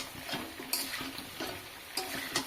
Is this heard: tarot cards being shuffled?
no